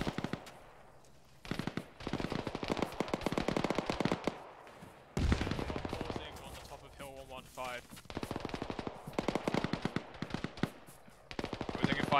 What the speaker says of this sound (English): We're taking fire from our southwest in the sector that Charlie hasn't cleared yet